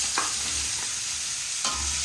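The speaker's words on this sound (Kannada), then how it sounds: "ಇದಕ್ಕೆ ಹೆಚ್ಚಿಟ್ಕೊಂಡಿರುವಂಥ ಸೌತೆಕಾಯಿನ ಹಾಕ್ತಾಯಿದ್ದೀನಿ" Chopped cucumber sizzles in hot oil with mustard seeds and a pinch of asafoetida, a steady frying hiss broken by two sharp scraping stirs of a spatula in the pan, close and unaccompanied by talk.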